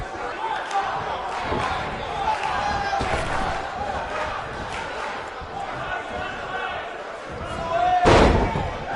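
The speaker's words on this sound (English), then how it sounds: "We have a sold-out, record-setting crowd here for BCW tonight." A sold-out wrestling arena crowd in the video game NBA 2K19 roars and cheers continuously, with thuds and a louder swell near the end.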